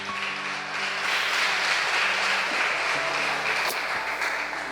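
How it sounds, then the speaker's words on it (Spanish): A church congregation applauds together in a steady, even wash of clapping that fills the room for a few seconds, without anyone speaking. "Vamos a darle un fuerte aplauso a Él en esta noche."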